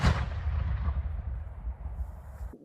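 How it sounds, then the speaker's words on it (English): A Civil War reenactment cannon fires at Fort D, one deep booming blast with a long rumbling roar that rolls and echoes for over two seconds before cutting off. "a time when the roar of cannon fire echoed down to the Mississippi below"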